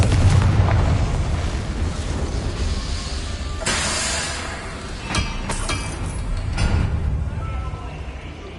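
Hogwarts Legacy Confringo spell going off in combat: several sharp fiery bursts and booms over a dense, rumbling game soundscape, with a sustained low roar underneath and a brief voice behind the blasts.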